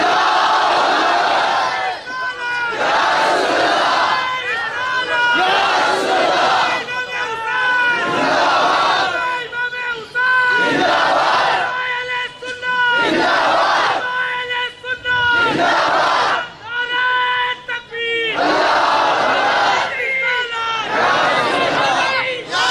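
A large crowd at a religious speech gathering chants slogans in loud rhythmic bursts, repeating roughly every two seconds with brief pauses between, voices massed and energetic.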